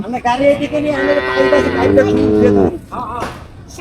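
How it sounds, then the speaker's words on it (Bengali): Cattle newly arrived by truck from Pabna moo loudly and close by, with a long, strong low call under a few voices and some background bustle. "তো গরুগুলো পাবনা থেকে আসছে, ট্রাকে করে নিয়ে আসছে"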